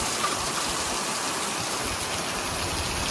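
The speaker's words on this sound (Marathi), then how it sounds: "पाऊस पहा ना किती चालू आहे" Torrential monsoon rain pours down outside a shop, a dense, even hiss of water that fills every moment without a break, loud and close, with no talking over it.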